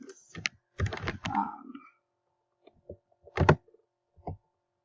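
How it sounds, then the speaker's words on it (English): Comments typed on a computer keyboard while filling in a grading rubric: irregular bursts of close key clicks, a quick flurry then scattered single taps and short runs with pauses between, no talking. "if you want to add comments, you can type in your comments"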